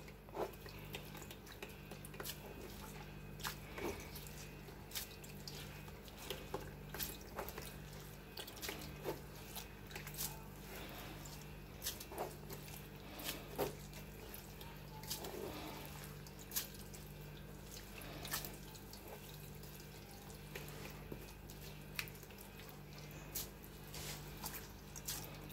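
Water runs steadily from a tap while ground grains are washed for pap, with soft splashes and drips over a low, continuous hiss.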